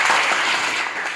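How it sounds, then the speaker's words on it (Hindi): Students clapping for a classmate in a school classroom, a dense burst of applause lasting about a second, loud and close without talk. "जोरदार तालियां प्रमोद"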